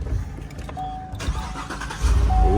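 A Jeep with a new motor cranks and catches, the engine rumbling up into a low idle that swells louder toward the end, with a faint tone and some shuffling nearby.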